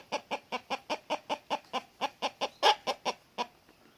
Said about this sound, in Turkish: Evet arkadaşlar bu tam bir horoz olmuş